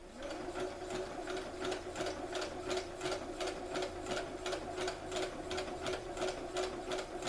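A sewing machine overcasts a fabric edge using an overcasting foot, its needle pounding in a fast, even rhythm of close mechanical clicks over a soft motor whir.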